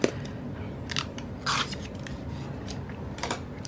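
Scissors snipping through planner sticker paper, a few short crisp cuts spread across a few seconds, fairly close and quiet with no talking.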